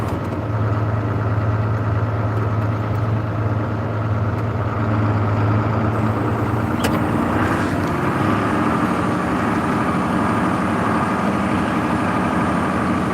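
A John Deere 4640 tractor engine runs steadily while hauling hay bales, a loud, close diesel drone that holds an even low rumble for the whole stretch.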